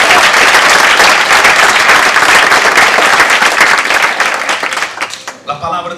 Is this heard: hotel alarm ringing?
no